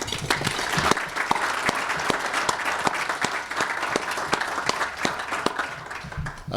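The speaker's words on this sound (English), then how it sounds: "So let's again applaud Catherine." An audience applauds at a formal dinner honouring the DHS Secretary, with sustained, dense clapping from a large room and a few sharper individual claps standing out near the microphone.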